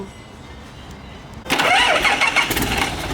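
Hino Profia truck with a 320 hp P11C diesel engine cranking and catching, a quiet lead-in then a loud, close engine roar that settles into a steady rumble.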